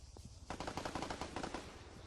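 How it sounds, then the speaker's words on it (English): Rapid nearby gunfire in the Arma 3 King of the Hill game, a dense burst of automatic shots running steadily for well over a second after a single earlier crack. "Some gunshot nearby, I'm not exactly sure where it is."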